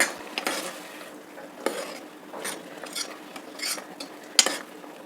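A pot of raw-banana curry with thick curd added simmers while a spoon stirs and scrapes through it, giving soft bubbling with several clinking scrapes against the pot, close and fairly quiet, no voices.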